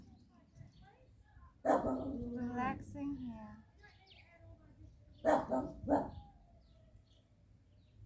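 A dog barks and whines indoors during a home yoga stretching session, with two loud bursts of vocalizing separated by quieter moments while someone speaks calmly.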